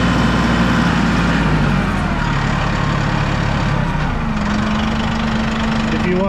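Massey Ferguson 1E.40 compact tractor engine running steadily close by at hand-throttle speed, a continuous low diesel drone with a pitch shift partway through.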